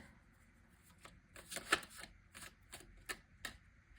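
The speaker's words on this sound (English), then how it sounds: "So I'm just gonna shuffle for a little bit." Soft, quick riffling bursts of tarot cards being shuffled, irregular and close, with small taps between them in a quiet room.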